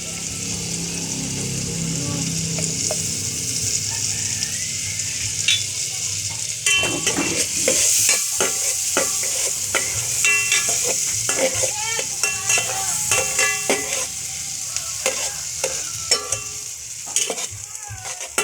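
Garlic frying in melted butter and margarine in a pan, a steady sizzle that grows louder as the garlic goes in, with clinks and scrapes of a utensil stirring throughout.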